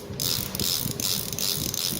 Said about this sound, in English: So this is another one way of modify your reel to make it sound louder for the drag.